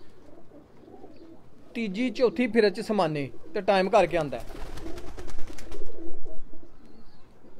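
Sultan home-breed pigeons coo softly in the background while someone talks over them near the start, and the low cooing carries on more clearly once he pauses.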